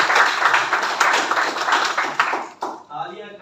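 Applause from an audience at a property presentation event, dense clapping that carries on steadily, then thins and stops near the end, with an announcer talking over it.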